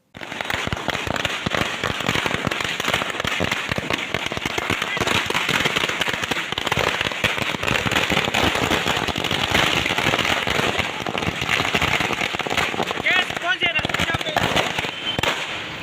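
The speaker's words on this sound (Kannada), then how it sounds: "ಮುಖಂಡರು ಪಟಾಕಿ ಸಿಡಿಸಿ" A long string of firecrackers bursts in rapid, continuous crackling, loud and close, as Dalit organization leaders celebrate a Supreme Court verdict on SC/ST internal reservation; a voice speaks over the din.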